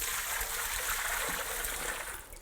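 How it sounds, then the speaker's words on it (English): Fresh water pours steadily into a big bowl as the first step of authentic Italian pizza dough in a pizzeria, a continuous close splashing trickle with no talk. "You pour the fresh water into the big bowl here."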